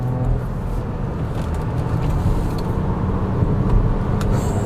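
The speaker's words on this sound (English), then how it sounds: "there is a sport button here, and if I press it, the Macan S goes ballistic" A Porsche Macan S with a 7-speed PDK gearbox accelerates hard in sport mode, heard from inside the cabin as a loud, steady engine and road roar.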